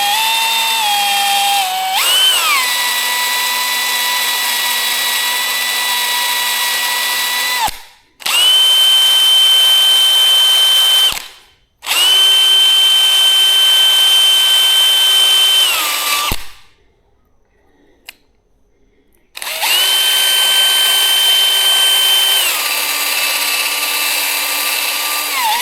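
A power drill with a cleaning attachment whirs at high speed while scrubbing John Deere mower parts, running loud and close in several long bursts separated by brief pauses, with pitch dips as it bites under load.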